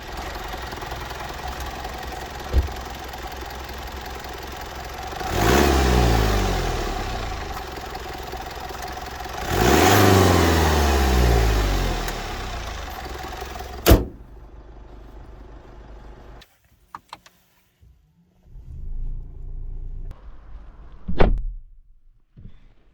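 A Mercedes C 220 d 4MATIC All-Terrain's 4-cylinder 2.0 turbo diesel of 200 hp starts with a clattering surge, revs twice, then settles before cutting off, followed by faint thuds and another brief start.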